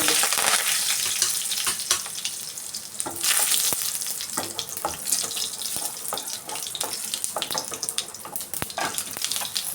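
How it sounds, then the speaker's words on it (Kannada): Byadagi chilies frying in a pan, a steady close sizzle and crackle with occasional stirring clicks, continuous and fairly loud. "ಮೆಣಸಿನ್ಕಾಯಿ ಸ್ವಲ್ಪ ಚೆನ್ನಾಗಿ ಫ್ರೈ ಮಾಡ್ಕೊಂಬಿಡೋಣ ಈಗ"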